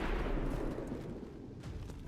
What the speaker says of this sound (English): so maybe we could just straight away start with an explosion